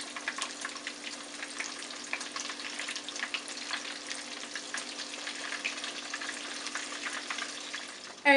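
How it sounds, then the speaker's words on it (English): Shrimp pan frying in oil until golden brown, a steady crackling sizzle with fine popping spatters, continuous and close, without talk. "You could also pan fry these or shallow fry them or deep fry them"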